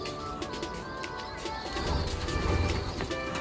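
Racing homing pigeons coo softly in a loft, a steady low murmur of calls that swells louder in the second half, with faint chirps and rustling over it.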